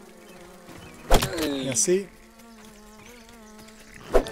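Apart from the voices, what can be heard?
flies buzzing in the video game Grounded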